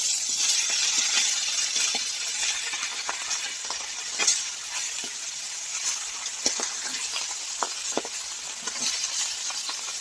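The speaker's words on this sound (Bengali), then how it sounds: "তো তোমরা দেখো আমি ইলিশ মাছ ভাজছি।" Hilsa fish fries in a pan with a steady, bright sizzle and crackle, close and loud, broken by occasional sharp pops and taps of a utensil.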